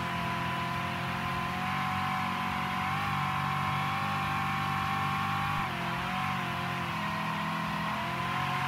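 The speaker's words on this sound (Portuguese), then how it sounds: "Meu, este carro aqui é rápido, hein?" A fast car's engine drones and revs in the video game Mafia 3, a steady, fairly quiet mid-pitched hum with slight pitch swells throughout, with no speech.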